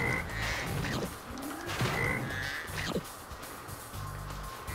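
Frogs croak in the game Spyro: Year of the Dragon, a few rasping, caw-like calls repeating over a steady game background loop, moderately loud with no talk.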